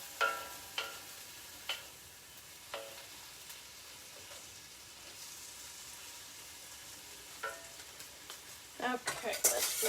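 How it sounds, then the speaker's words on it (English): A pan sizzles softly while being deglazed for lemongrass chicken, a steady low frying hiss with a few sharp ticks and utensil clinks, growing busier and louder near the end. "we're deglazing the pan here with this"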